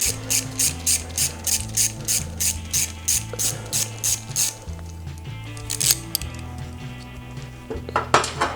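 Wrench ratcheting a nut loose on the charging system of a 1991-2003 Harley-Davidson Sportster, a quick run of close, evenly spaced metallic clicks followed by clinks of tools being handled, with no talking.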